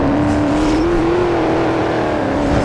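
An Audi drifts, its engine holding a loud, steady sustained drone with a slight wavering pitch, close up and filling the short moment without any voices.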